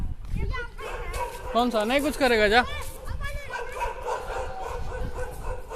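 A German Shepherd dog barks and yips nearby, then whimpers, over and between a person talking calmly to it.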